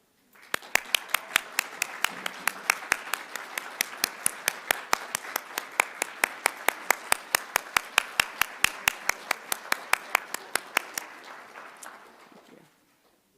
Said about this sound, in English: please rise and join me in a heartfelt round of applause for those who've guided and encouraged you